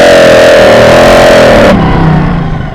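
Historic 3.5 litre Brabham Buick V8 hillclimb racer roars loudly from onboard, engine note climbing steadily under hard acceleration before an abrupt gearchange drops the pitch and it pulls again.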